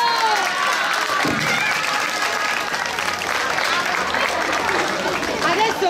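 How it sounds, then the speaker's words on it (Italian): Steady, full applause from an audience at an outdoor village games festival in southern Italy on a summer evening, with scattered shouts and voices mixed into the clapping throughout. "Un applauso."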